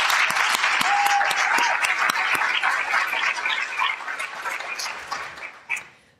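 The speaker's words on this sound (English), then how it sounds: "So I'd like to just give you a round of applause" A room full of people clapping steadily, a dense crowd applause that fades out near the end.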